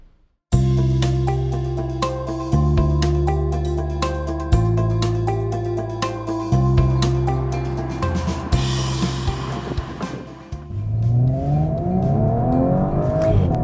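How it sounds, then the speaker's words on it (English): An Audi S5 with a 3-litre V6 petrol engine revs up through the gears, its loud, guttural exhaust note rising in pitch and then dropping at each shift, heard close with no voices. "This engine is a bomb. That guttural note of the exhaust, the acceleration, the punch"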